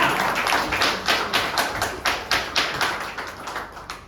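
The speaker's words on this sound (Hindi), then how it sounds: "मैडम के लिए एक बार जोरदार तालियां।" An audience claps for a woman on stage at a speaking event, a burst of rhythmic, fairly loud applause pulsing in even beats with no talk over it.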